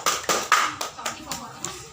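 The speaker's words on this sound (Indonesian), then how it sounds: "Kasih tepuk tangan dong." Classroom hands clapping in a few slow, distinct beats about a quarter second apart, moderately close, with faint voices in the background.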